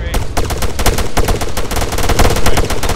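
Sustained automatic machine gun fire in the tactical military shooter ArmA 3, with dense, rapid bursts of shots continuing loudly and steadily from start to end.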